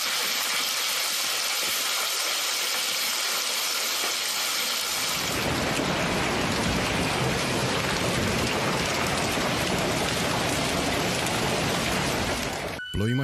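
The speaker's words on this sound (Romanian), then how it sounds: "Ploi masive însoțite de grindină s-au bătut asupra mai multor zone din sud-estul statului New York." A low idling engine hums, then a heavy rain and hail storm suddenly roars in over southeastern New York State, a loud, dense, continuous downpour lasting until the end.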